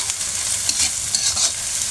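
Pasta is stirred in a hot frying pan with Maggi masala. A loud, close, continuous sizzle runs through the whole stretch, broken by brisk scraping and tossing strokes, with no talking.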